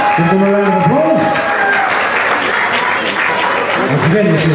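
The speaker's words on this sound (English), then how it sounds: "Give them a round of applause." Audience applause at the final of a U21 ProAm standard ballroom dance competition, sustained loud clapping from a crowd while an announcer talks over it.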